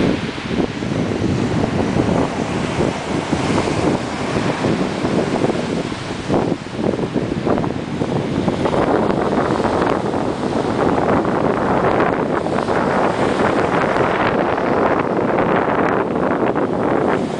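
Ocean waves roll in steadily on a Florida beach, a continuous loud wash of surf under strong wind buffeting the microphone, with no voices.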